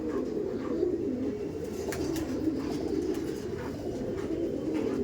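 Continuous low cooing from a nearby female and male Madrasi pigeon, a soft bubbling drone with occasional light taps and a brief flutter.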